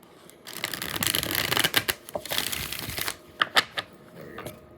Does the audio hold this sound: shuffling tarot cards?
yes